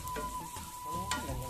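Onions and spice powders, chili and fenugreek, fry in a pan for Kerala ginger curry, giving a soft, steady sizzle with light stirring scrapes, close and quiet.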